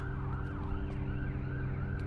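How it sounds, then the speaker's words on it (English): A siren wails far off in a neighbourhood by Dartmouth harbour, its pitch slowly rising and falling over a steady low hum of background noise. "I hear a siren in the distance"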